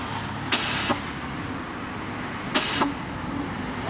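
Air suspension on a Fiat Uno lets out two sharp hissing bursts of released air about two seconds apart, close and loud over a steady background hum, with no one speaking.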